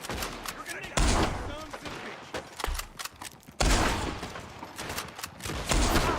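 Several loud gunshot blasts ring out in Red Dead Redemption 2, fired with a controller, two heavy reports spaced a few seconds apart over busy in-game ambience and scattered smaller cracks.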